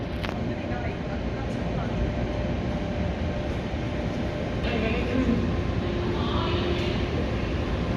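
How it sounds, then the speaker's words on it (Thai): A train arriving at a platform rumbles steadily nearby with a constant low roar and rattle, swelling slightly midway, with a brief voice or two faintly beneath. "รถไฟกำลังมาจ้ะ เข้าชานชาลามานู่น"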